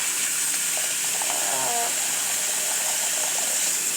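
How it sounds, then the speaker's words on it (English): Water runs steadily from a household sink tap while it warms up to hot, a continuous broad hiss and splash, close and fairly loud, alone with no voices. "it's just running water until it gets hot"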